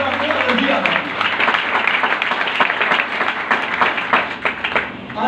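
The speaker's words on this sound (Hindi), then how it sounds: "आए यीशु के लिए जोरदार ताली हो" Loud, sustained applause from a church congregation at a gospel service in Rawalpindi, with dense clapping filling the room and a voice speaking over it.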